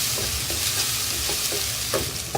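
Garam masala, coriander powder, turmeric and red chili powder fry in a pan as a loud, steady sizzle close by, broken by regular scraping strokes of stirring.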